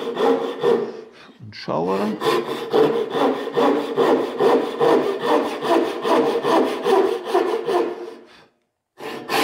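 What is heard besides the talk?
hand saw cutting wood across the grain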